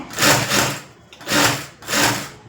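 A sewing machine stitches a border on a boat-neck garment in three bursts of steady mechanical whirring, each about half a second, with short pauses between, loud and close with no voices.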